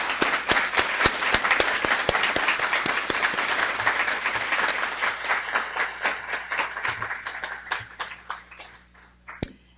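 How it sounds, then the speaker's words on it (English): Graduates of a Guiding Eyes for the Blind guide-dog class get a warm round of applause from the crowd, dense clapping at first that thins into scattered, distinct claps and fades near the end. "Let's give this group in front of us a great big round of applause."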